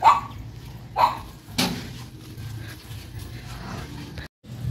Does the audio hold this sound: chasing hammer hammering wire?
no